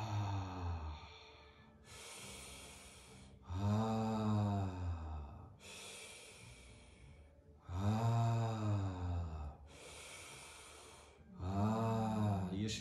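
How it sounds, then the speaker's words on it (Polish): Slow, continuous circular breathing shown in a holotropic breathwork practice, with long alternating inhales and exhales, some nasal and snorting, several full cycles close to the mic with no talking. "Jeśli jest to oddech powolny, to by to brzmiało tak."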